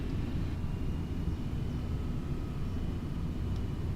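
Boeing 747 jet engines in Flight Simulator X roar through a steady climb, a dense, constant low rumble with airy hiss that holds evenly throughout without pause.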